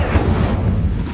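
Casting the Incendio fire spell in Hogwarts Legacy: a loud, dense whooshing roar of flame that holds steady with a deep rumble for about a second.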